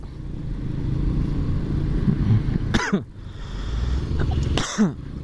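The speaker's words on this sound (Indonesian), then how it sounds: "Aduh, batuk." Two short coughs a couple of seconds apart from a motorbike rider, heard over the steady rumble of passing traffic and motorbikes near a market area.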